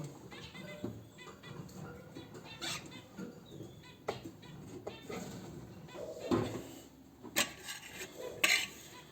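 Spoon handled in a budgie cage, with small metallic clinks, scrapes and rattles of wire coming in irregular bursts close by, mixed with faint bird sounds and rustling.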